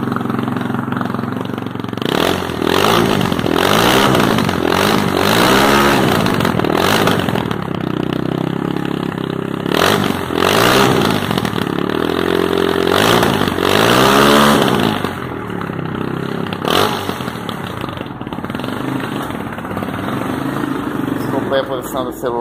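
A Shineray Discover 250 motorcycle engine fires up and idles with a loud chugging rumble, broken by repeated revs that rise and fall several times, heard up close.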